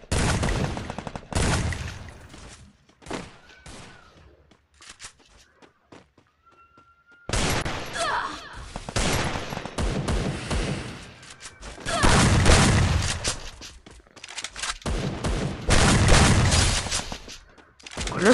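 Free Fire gameplay gunfire, rapid volleys of shots in loud clusters broken by a quieter lull of scattered single shots and footsteps midway, then dense firing resumes, near and prominent.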